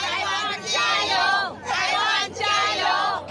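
Flag-waving crowd cheering at Taiwan's Double Ten National Day ceremony, with loud surging bursts of shouting and hubbub in three swells separated by brief dips.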